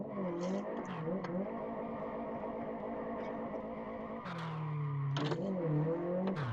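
A Tofaş car in a driving game, its engine humming steadily in second gear with rising and falling revs and a sharper surge near the end, close and continuous with no voices.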